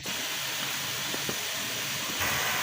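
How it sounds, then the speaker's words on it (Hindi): Steady broadband hiss and bubbling of water boiling in a pot, continuous and fairly close, with no voices. "पानी उबलना शुरू हो गया"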